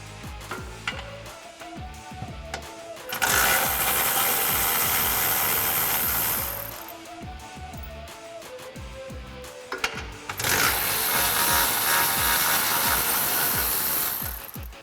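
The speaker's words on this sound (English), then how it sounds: "Now we need to remove the two 13mm bolts from behind the differential that's attached to the cross member" Ratchet with a 13mm socket working bolts loose behind the differential on a 2015-2017 Mustang GT, heard as two long stretches of fast metallic clicking separated by quieter gaps, close and loud with no talking.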